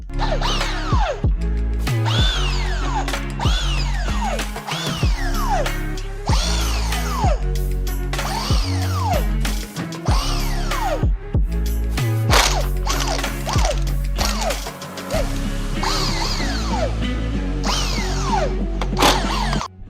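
A ratchet wrench loosens half-inch bolts on a Corvette's crossfire injection, loud close clicking in repeated bursts with short pauses between bolts, continuing steadily throughout.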